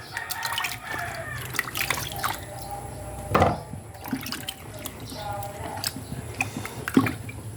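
Muddy sweet potatoes washed by hand in water, with sloshing, dripping and splashing that come in irregular bursts, one sharper splash standing out, and a voice faintly in the background.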